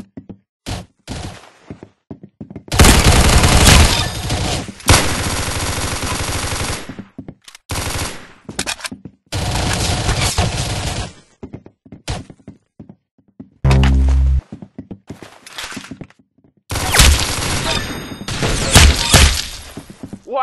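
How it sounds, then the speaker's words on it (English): Video game gunfire comes in loud, rapid bursts of automatic shots and thunks, broken by short silent gaps. The bursts repeat across the clip, with a sharp smash or impact in the middle. "Very good shooting."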